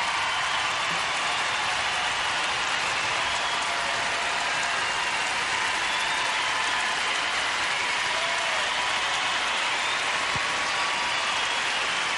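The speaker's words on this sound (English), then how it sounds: "the standing ovation from the crowd says, welcome back, Sasha" Standing ovation from a large figure skating championship arena crowd, dense sustained applause that stays loud and even throughout with no pauses.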